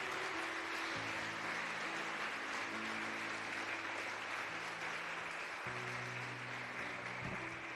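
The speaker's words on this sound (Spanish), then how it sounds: "¿Qué tal si le damos un aplauso al Espíritu Santo, iglesia?" A church congregation applauds steadily, a soft, continuous patter of many hands with sustained musical tones underneath throughout.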